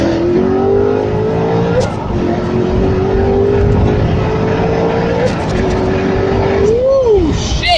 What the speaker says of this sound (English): I'm only in fourth gear and I'm already at 130